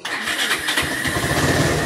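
A Bajaj Rouser 180/200/220 motorcycle engine catches on a push start and settles into a loud, close, throbbing idle with quick rhythmic pulses.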